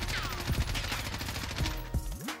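Rapid automatic fire from an M4 rifle fitted with an Obsidian camo, sprayed at long range in Call of Duty Warzone on the Caldera map, a dense rattling burst running almost the whole time and ending abruptly.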